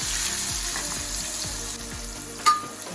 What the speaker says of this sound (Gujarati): મિક્સ કરી લેશું અને આપણા કાંદા અને ટમેટા જે છે તે સંતળાઈ જાય